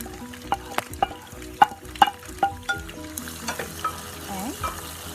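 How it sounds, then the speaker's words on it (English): Chopped onions hitting hot oil with cooked spices in a pan for fish curry, giving a steady close sizzle broken by sharp clinks and scraping stirs, with no talking. "then you add 2 chopped onions."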